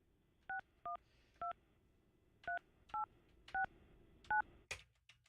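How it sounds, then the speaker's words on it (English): A telephone number is dialed on a keypad, a series of distinct touch-tone beeps in uneven groups, clear and close, followed by a short burst of noise at the end. "All right, I'm calling Allie Ray."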